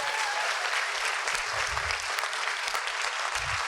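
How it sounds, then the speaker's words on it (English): An audience at a closing speech claps for the event's sponsors, speakers and facilitators: sustained, dense applause filling the whole stretch, moderately loud, with a few low thumps under it and no speech. "Can I have a massive clap for them"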